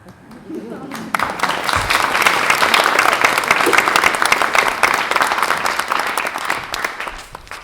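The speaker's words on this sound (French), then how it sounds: "C'est pas le moment d'applaudir." Theatre audience applauding before an amateur troupe's performance of Corneille's Le Cid: faint murmur at first, then loud, sustained crowd clapping that swells and holds steady to the end.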